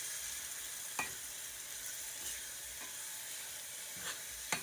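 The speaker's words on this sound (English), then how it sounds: "I am just sauteing this because I like for my tomato paste to kind of get cooked in there and releases its flavor." Tomato paste sautéing in a pan for Puerto Rican rice and beans, a steady soft sizzle throughout with a few brief clicks of stirring, faint and close, with no talking.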